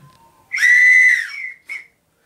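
A Peruvian flute orchestra bench is blown into like an organ wind chest, producing one sustained steady whistle-like tone followed by a short second toot, loud and clear with no talk.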